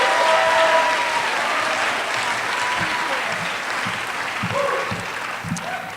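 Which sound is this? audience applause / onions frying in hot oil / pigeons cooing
audience applause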